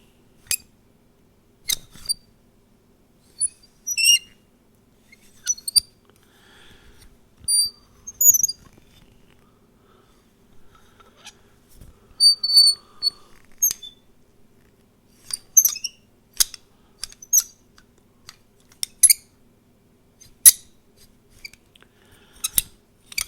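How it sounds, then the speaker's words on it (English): Short, sparse squeaks and creaks from a metal door hinge worked by hand, scattered irregularly across a quiet background, each squeak brief and close with no talk. "So I took the sound of a door hinge, which I have here, and I will record that next."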